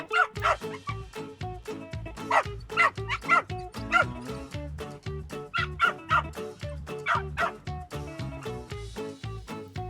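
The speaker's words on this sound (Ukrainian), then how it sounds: "Звісно, це собачка." A small dog barks and yips in rapid, repeated bursts, close by and excited, with short whimpering notes mixed in.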